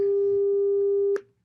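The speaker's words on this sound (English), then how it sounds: "It's just like a single sine wave" A single pure sine-wave tone from a live sound demonstration holds steady and loud for about a second, then cuts off abruptly, leaving faint room noise behind.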